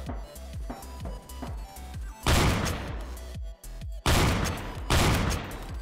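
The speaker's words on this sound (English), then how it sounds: "who's shooting at me?" Rapid gunfire in Roblox Phantom Forces, a sequence of sharp shots in quick rhythm followed by heavier loud bursts with brief silent gaps, close and dominant with no talk.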